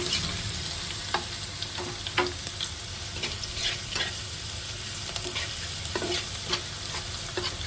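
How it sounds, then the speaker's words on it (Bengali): Onion frying slowly in a pan on a stove, a steady close sizzle with regular light scraping strokes of a stirring spoon throughout. "আস্তে আস্তে একটু ভেজে নেব"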